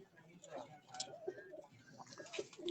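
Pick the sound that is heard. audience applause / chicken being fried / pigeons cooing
pigeons cooing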